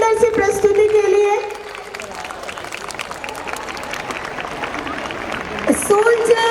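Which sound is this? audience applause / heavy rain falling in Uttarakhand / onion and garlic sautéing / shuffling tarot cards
audience applause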